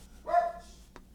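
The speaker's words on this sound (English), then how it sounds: "That's my dog." A single short bark from a dog indoors, faint and somewhat distant, lasting a fraction of a second and followed by low room noise.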